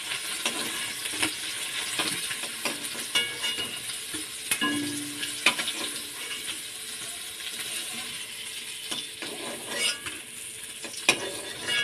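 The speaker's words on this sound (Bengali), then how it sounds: "এই মাছটা বেশি ভাজবো না, করা হালকা করেই ভাজবো" Fish pieces fry lightly in a pan with a soft continuous sizzle, punctuated by repeated scrapes and clinks of a spatula turning and stirring them, close and fairly quiet with no talking.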